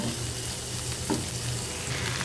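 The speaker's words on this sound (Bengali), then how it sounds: "এখন একটু বেশি করে পেঁয়াজ দিয়ে ঢেঁড়সটা ভাজি করব।" Cut okra fries with plenty of onion in a pan, no spices added, producing a loud, dense, continuous sizzle heard close with a faint stir near the middle.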